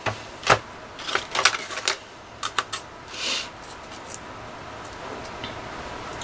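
Die-cutting machine cranking an embossing folder through, a series of sharp close clicks and ratcheting snaps in the first few seconds, then quieter room tone.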